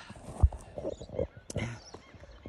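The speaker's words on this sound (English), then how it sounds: "All the horses yarded up this morning and they're being fed." Horses in a farm yard, gathered up for a morning feeding, give a loud neigh near the start, followed by shuffling hoof and movement sounds and a second whinny-like call about a second later, all close by.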